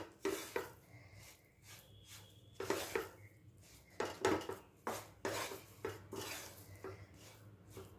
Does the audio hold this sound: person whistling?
no